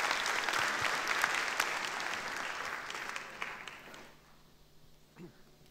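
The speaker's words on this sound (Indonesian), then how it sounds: "Tepuk tangan untuk Pak Ari Budiman." Audience applause at a church service, a full crowd clapping loudly for about four seconds before it thins out and fades into quiet room tone.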